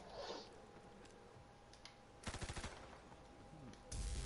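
A gun fires in the video game WW2 Zombies, a short rapid burst of about seven shots, then another loud burst at the end, over a quiet game background.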